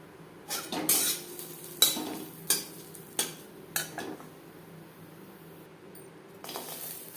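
Garlic cloves, green chilies and nigella seeds dry-roasting in a pan while a utensil scrapes and knocks against the metal, producing a series of sharp clinks and scrapes at irregular intervals, fairly quiet, with no voices.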